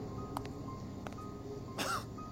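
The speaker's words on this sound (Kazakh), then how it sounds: "Содан кейін әкем қатты жөтеле бастады." A man in a cave coughs in an animated scene, a few short sharp coughs spaced apart and then a louder, harsher burst near the end, fairly quiet overall.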